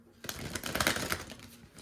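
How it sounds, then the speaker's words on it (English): Tarot cards being shuffled by hand: a soft, brief riffling rustle of card stock, close but quiet, lasting under two seconds. "Notice I'm just shuffling."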